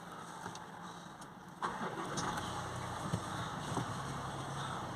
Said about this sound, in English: we're going to start the car up